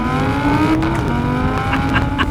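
An Audi R8 Spyder accelerates hard, its engine note climbing in a loud, steady rising whine close by.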